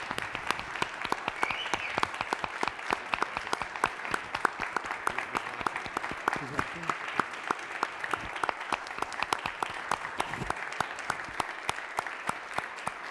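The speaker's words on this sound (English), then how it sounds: "I would love to give a standing ovation and an applause to our friend and colleague, Minority Leader Steve Matteo." Steady applause from a room of people, crisp scattered claps continuing evenly for several seconds without voices on top.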